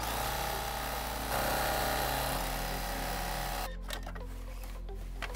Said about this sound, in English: I'll go ahead and stitch from the center all the way to the end